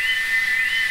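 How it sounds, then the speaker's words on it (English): A steam engine whistle sounds as one sustained, steady high tone with a faint hiss around it, loud and close, with no talk. "It sounds like Gordon," said Edward. "And it ought to be Gordon. But Gordon never whistled like that"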